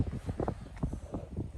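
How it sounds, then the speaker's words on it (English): Wind buffeting the microphone at a mountain pass on the Floe Lake hike along the Rockwall Trail in October, low rumbling gusts, close and uneven, with no voices. "So, a little windy up here."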